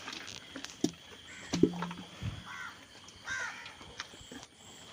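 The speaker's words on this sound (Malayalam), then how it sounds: "അങ്ങനെ പാറി എല്ലായിടത്തുള്ള തന്നെയാണല്ലോ കാക്കകൾ ശല്യം ചെയ്യൽ." Crows caw a few times at a village home, the calls short, scattered and fairly faint against a quiet outdoor background.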